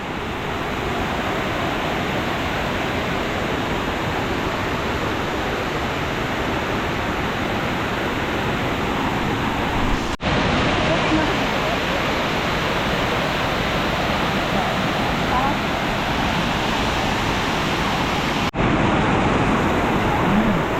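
Bantakay Falls waterfall roaring in a steady, loud, broadband wash of falling water, continuous and close throughout with no voices.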